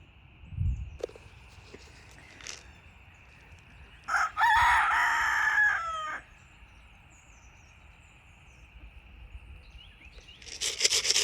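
A rooster crows loudly in one long call, with scattered clucks and insect buzz around it and rain-like noise at the end.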